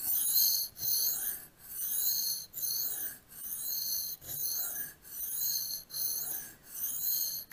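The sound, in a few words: knife sharpening on a Glasstone 500 grit stone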